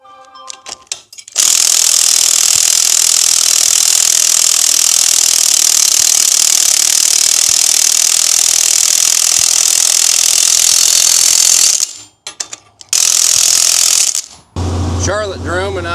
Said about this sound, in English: I got tired of turning that wrench by hand, so I got the old cheater tool out